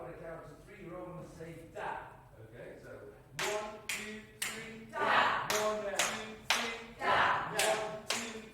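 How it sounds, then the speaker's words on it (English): A group clapping hands in rhythm, first faint scattered claps under talking, then a run of sharp, loud, evenly spaced claps close by, with voices continuing between them. "So this is how we find out if we've got rhythm in our bodies. Okay, so we clap here like this,"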